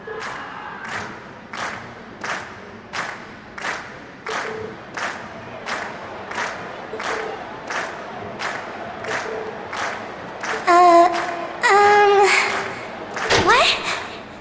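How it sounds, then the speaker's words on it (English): Crowd cheering and rhythmic clapping from a large audience after a stage performance in Trails of Cold Steel, steady pulsing claps building into louder bursts of cheering near the end. "we've heard your cheers loud and clear"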